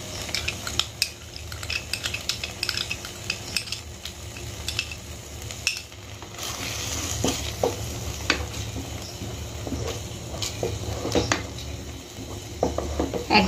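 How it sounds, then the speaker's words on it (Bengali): Whisked curd being stirred in a wok over a very low flame for a dhaba-style egg korma, giving a steady soft scrape and clink of the spoon over a faint sizzle that runs throughout, with no one talking. "একদম লো ফ্লেমে এটাকে নাড়তে হবে।"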